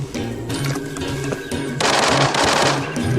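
Rapid automatic gunfire from a shooter in the video game Arena Breakout, dense bursts of close, loud shots rattling continuously with a heavier stretch of fire in the second half and no talking.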